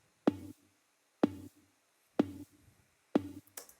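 Offbeat synth lead with parallel processing adding click to the attack, four short evenly spaced plucky notes with sharp transient onsets and quick decays, alone in a clean mix.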